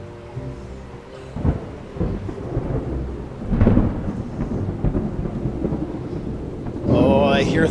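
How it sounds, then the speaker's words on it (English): Deep rolling thunder rumbles over steady rain, with a louder crack near the middle and another swell of storm noise at the end, at the Ark Encounter in Williamstown, Kentucky. "I hear thunder. It's starting to rain."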